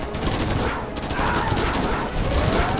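Special forces gunfire in the real-time strategy game Command & Conquer Generals, a steady dense crackle of rapid machine-gun shots and overlapping volleys, loud and continuous throughout the battle.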